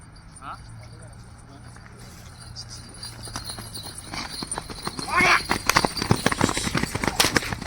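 Bullocks' hooves clatter in quick rhythm, growing louder as the animals run closer at a bullock race, with people talking and shouting around them.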